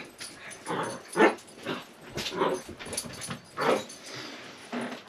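Dogs whimpering and whining in several separate bursts, fairly close and moderately loud, with short quiet gaps between the cries and no talking.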